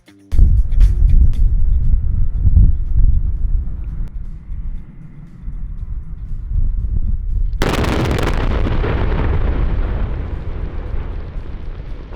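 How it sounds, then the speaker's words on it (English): Mining blast at a phosphate mine in the Middle East: rumbling machinery noise, then a sudden deep, loud explosion that rolls out into a long sustained roar of falling rock and debris. "We noticed they were setting up for a blast as we watched the digging"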